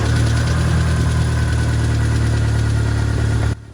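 Audi B6 A4 2.0T engine idling steadily after a power steering pump replacement, a loud, even mid-pitched hum with a constant drone that cuts off near the end, no talk.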